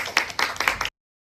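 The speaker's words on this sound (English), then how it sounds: "a big round of applause for all our students" Audience clapping for students at a live presentation, a brief run of about five distinct claps close by, ending abruptly in silence.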